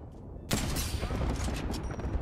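Sentinel sniper rifle fire in Apex Legends: one loud, sharp shot cracks out midway, then echoing battle noise and further gunfire carry on. A voice talks quietly underneath.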